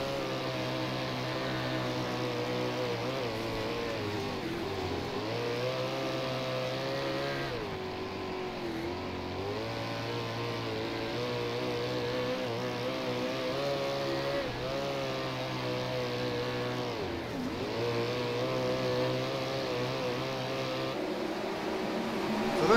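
From onboard a World of Outlaws 410 sprint car lapping the dirt track at Charlotte, the engine roars loudly and continuously, its pitch sagging and climbing as the car slows into the turns and accelerates out again.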